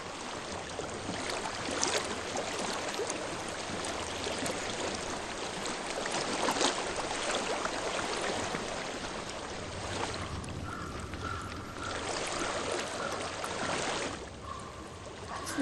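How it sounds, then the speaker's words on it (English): Flowing stream water in Hellblade: Senua's Sacrifice, a continuous rushing burble holding steady at moderate level throughout, with a faint tonal hum drifting in near the end. "I hear water."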